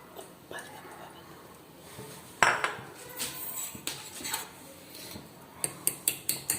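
Eggs mixed with Maggi noodles, black pepper and coriander being beaten in a bowl, heard as a run of quick metallic taps and clinks that speed into a sharp rhythmic burst near the end.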